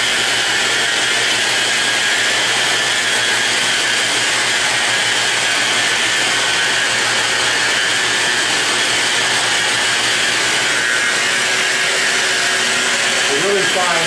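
A Festool sander refinishing stone runs as a steady, loud, unbroken whine and roar, close by and continuous throughout.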